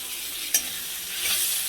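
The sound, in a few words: ginger, garlic, green chili paste frying in pan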